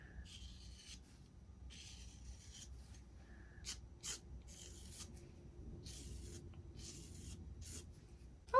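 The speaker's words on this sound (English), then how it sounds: "I'm gonna write an M for mom" Pencil strokes scratch across a card while writing a letter M for a Mother's Day card, a series of short, quiet, close rasping bursts separated by brief pauses.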